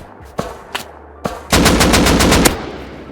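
Gunfire in the video game Rust: three separate single shots, then a loud rapid automatic burst of about a second, close up, with no talk.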